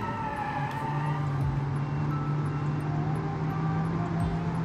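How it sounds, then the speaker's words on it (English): Turbocharged Honda F22B1 engine in BeamNG, spooling early around 1800 RPM: a steady low drone with a sustained tone held at constant pitch, plus a faint higher whine, running continuously and fairly loud throughout. "Spooling very early at 1800 RPM, 1800. This turbo is spooling, which is very efficient"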